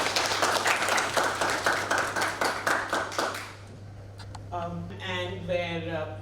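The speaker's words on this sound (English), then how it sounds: "So I think that's a round for self-applause." A Hyderabad panel discussion audience applauds for about three and a half seconds, with dense, even clapping close by, before it fades and a single voice begins speaking.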